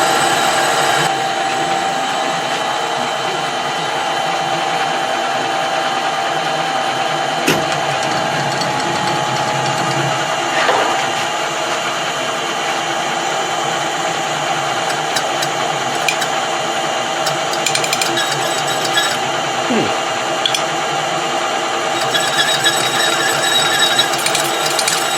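A Colchester Bantam lathe cuts 16DP change gears, a continuous, fairly loud machine whine with a steady tonal drone, a few sharp clicks and taps along the way, close and with no talking.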